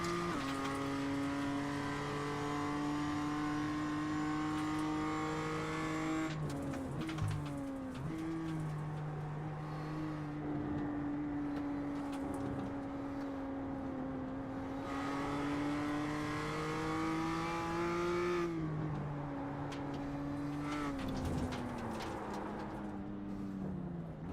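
Onboard a race car lapping Lime Rock Speedway during an AARS money race, the engine drones loudly and continuously, its pitch climbing and dropping sharply at each gear change and braking zone.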